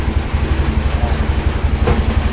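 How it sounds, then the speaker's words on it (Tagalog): A car engine idles steadily with a low, evenly pulsing rumble that continues throughout, close and moderately loud, with no talking. "off ko muna yung makina para hindi siya maingay"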